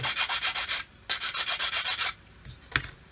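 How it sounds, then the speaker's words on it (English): Rapid rhythmic rasping strokes of a sanding stick, two long bursts of back-and-forth scrubbing separated by a short pause, then a few lighter scrapes. "I can just come along with this flat sanding stick"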